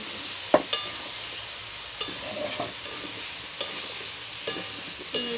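Raw pumpkin curry frying in a pan with chillies, salt and turmeric is stirred, a steady soft sizzle carrying scattered utensil scrapes and clinks against the pan.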